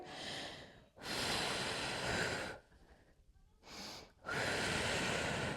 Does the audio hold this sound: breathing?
yes